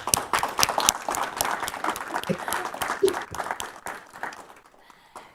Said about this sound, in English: So let's give Provost Linda Doyle a round of applause